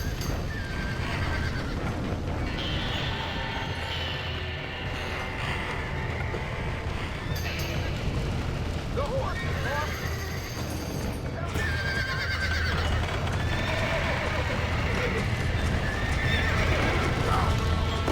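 In Red Dead Redemption, trapped horses neigh and whinny repeatedly while hooves clop and stamp nearby, with loud ambient noise underneath and occasional voices mixed in.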